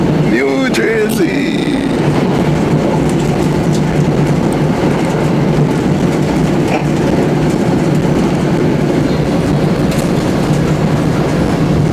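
Riding a train through New Jersey brings a constant loud rumble of the railcar with rhythmic clatter from the tracks, and a brief voice near the start.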